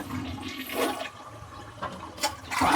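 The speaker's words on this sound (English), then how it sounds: "Look at the flushes." A campground bathroom toilet flushes with a rushing gush of water, fairly close and loud, swirling and gurgling with no talk over it.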